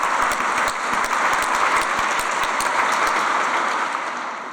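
Steady applause from an awards ceremony audience, a dense even wash of clapping that holds throughout and fades slightly at the end.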